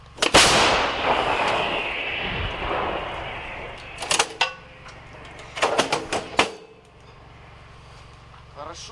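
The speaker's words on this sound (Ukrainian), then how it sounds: "Постріл." Several sharp shots crack out from Grad multiple rocket launchers firing in combat: one heavy booming shot followed by clusters of quick blasts, fairly close, with a low rumble between them.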